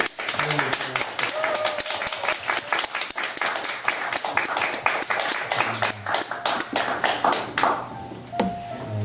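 A church congregation applauds a newly appointed evangelist. The clapping is sharp and close and runs for several seconds before thinning out, with voices heard briefly near the end.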